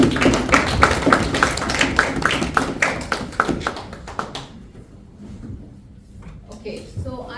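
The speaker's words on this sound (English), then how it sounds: "Please give a good round of applause." Audience applause for a Toastmasters club member coming on stage, a dense round of claps for about four seconds that thins into scattered claps and fades under low room chatter.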